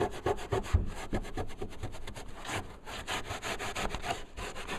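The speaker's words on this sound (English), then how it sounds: "take your rag with mineral spirits, and you just kind of, gently rub it" A rag soaked in mineral spirits is rubbed back and forth to lift glue off a motorcycle trunk liner, making rapid, rhythmic scrubbing strokes that sound close and continuous.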